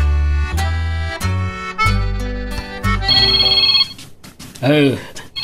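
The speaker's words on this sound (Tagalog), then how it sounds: "itay pa'y nga agriring ta cellphone mo" A cellphone rings with a bright, repeating electronic ringtone melody during an Ilocano drama scene. The ring plays loudly for about three seconds, then a voice briefly speaks.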